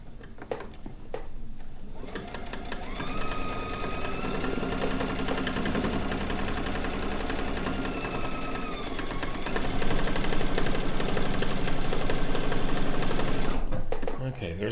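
A domestic sewing machine doing free motion quilting over an existing quilt, its needle running in a fast, continuous, even chatter that picks up speed toward the end and stops abruptly.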